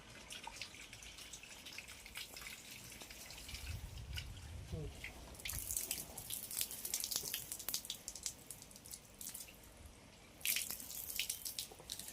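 Water runs and drips into a metal pot, a continuous splashing trickle with sharper bursts and drops toward the end, with faint talk in the background.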